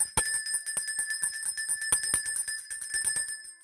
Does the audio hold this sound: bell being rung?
yes